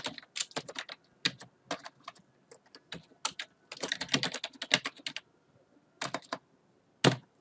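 Bursts of typing on a computer keyboard while entering an email address during a WordPress setup, crisp close key clicks in irregular runs separated by short pauses.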